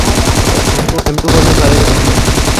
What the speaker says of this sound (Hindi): भाई जब तक M249 में 100 गोली ख़त्म नहीं हो गई उसने तब तक बिल्कुल भी फायर नहीं रोका